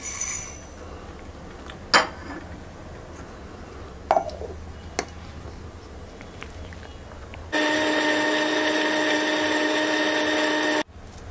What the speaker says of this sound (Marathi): आता हे आपण मिक्सरला लावून याची आपण पावडर करूया